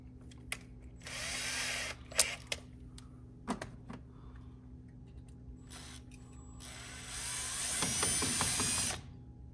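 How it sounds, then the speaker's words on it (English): A power drill with a left-hand drill bit whirs in short bursts with small metallic clicks between them, ending in a longer steady run that strains as it bites into a broken-off grease zerk. "So we'll try with a left-hand drill bit."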